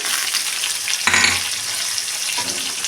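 Dry spices (turmeric, coriander, red chilli powder) frying in oil for a rohu fish curry with cauliflower, a loud continuous sizzle with a burst of stronger crackling midway and a smaller one near the end.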